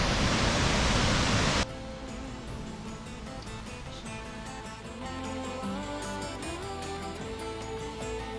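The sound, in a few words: waterfall at Lynn Falls, Scotland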